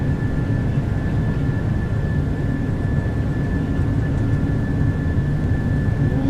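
Jet engines of a PMDG 737-800 airliner at takeoff power in a flight simulator, a loud steady broadband roar with a thin constant whine riding on top, unbroken for the whole span.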